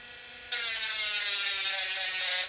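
A cordless sander starts up after a brief quiet moment and runs with a loud steady whine while smoothing pearl domino tiles, close by and without talk.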